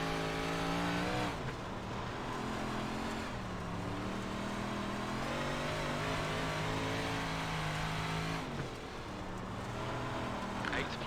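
A 358 dirt modified race car engine in iRacing at Kokomo Speedway revs and drones continuously, rising and falling in pitch through the corners and holding loud throughout.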